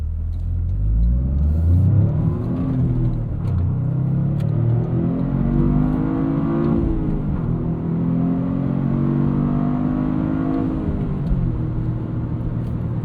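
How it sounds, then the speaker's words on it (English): A 2025 Toyota GR Corolla, a 300 hp six-speed manual hot hatch, accelerating hard: loud, close engine revs climbing through several gears in repeated rising sweeps, briefly dropping at shifts, with no voices. "we can't do a GR Corolla video and not show you what it's like in a spirited fashion"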